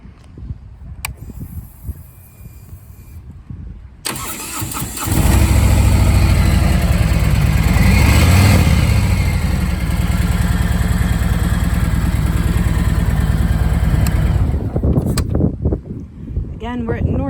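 A 2017 Harley-Davidson Tri Glide Ultra three-wheeler fires up after quiet moments and settles into a loud, steady close-range idle that runs for about ten seconds before cutting off.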